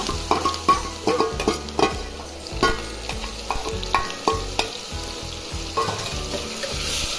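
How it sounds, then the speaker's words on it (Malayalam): Onion, green chilli, ginger and garlic sizzle loudly in hot oil up close, broken by repeated rhythmic scraping and clacking stir strokes throughout, with no voices. "അങ്ങനെ എണ്ണ ചൂടായി ഇനി നമുക്ക് മുറിച്ചുവെച്ച ഉള്ളിയും പച്ചമുളകും ഇഞ്ചിയും വെളുത്തുള്ളിയും ഇട്ടു"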